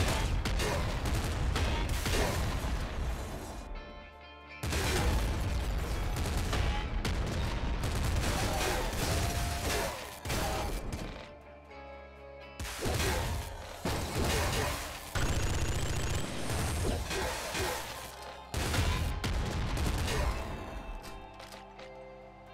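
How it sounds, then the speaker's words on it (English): Rapid machine gun fire in a co-op Mario Brothers game, loud and dense bursts that run almost continuously with a few brief pauses, set against busy game sound. "There's machine guns up there."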